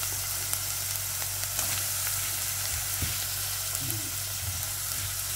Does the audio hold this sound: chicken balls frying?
yes